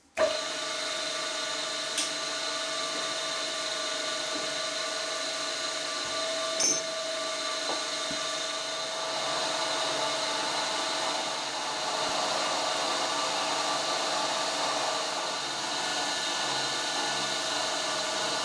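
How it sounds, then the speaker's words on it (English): Milling machine running at 95 RPM on a light skim pass over a metal angle plate, a steady close mechanical whir and hum with a few sharp clicks, growing slightly louder partway through. "I took a very light skim pass over the surface"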